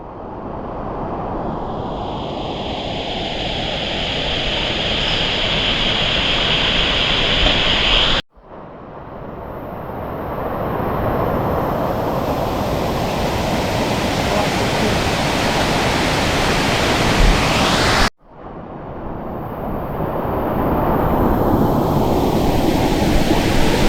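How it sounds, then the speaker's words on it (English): Steady roar of the Uma Anyar Waterfall in Bali, a dense broadband rush of falling water heard continuously and up close, with two abrupt cuts where the sound briefly drops before resuming at full strength. "There's another waterfall on top, so stay with me guys, we'll go and explore that section now."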